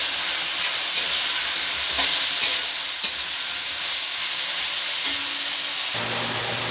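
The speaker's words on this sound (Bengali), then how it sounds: "এবার ঝিঙেটা দিয়েও একটু ভাজা ভাজা করে নিই" Ridge gourd and potatoes frying together in a pan, giving a continuous sizzle and hiss broken by a few sharp stirring clicks and scrapes, with no voices.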